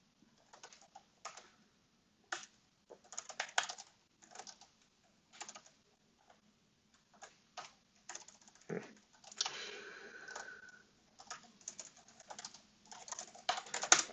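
Typing on a computer keyboard, close and quiet, in irregular bursts of clicking keystrokes with short pauses between them and a brief louder clatter midway, no voices.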